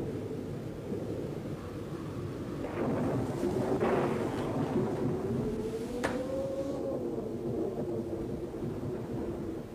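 A windy thunderstorm rumbles over a cemetery with weeping willows, low rolling thunder swelling midway under a constant wash of wind and rain.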